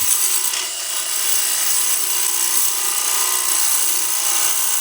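A lathe tool cutting a bowl turned from a pine 2x4, making a loud, continuous, even hissing shave of wood with no pauses and no voices.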